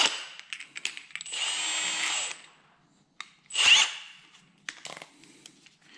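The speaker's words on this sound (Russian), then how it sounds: "Посмотрим, сколько она сможет закрутить. Для этого вынимаем вот этот вот быстросъемный патрон для бит. Ставим вот такую 17-ю головку." A Milwaukee M18 FUEL cordless hammer drill-driver fitted with a 17 mm socket in place of its quick-release bit chuck runs at close range, with one steady whirring burst of about a second and then a shorter rattling hammering burst.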